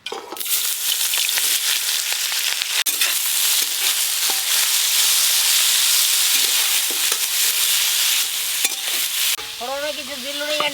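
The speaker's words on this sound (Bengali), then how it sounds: "এবার প্রথমে দিয়ে দেবো পেঁয়াজ কুচি।" Chopped onions hit hot oil and fry with a loud, steady sizzle and crackle throughout, with a brief voice near the end.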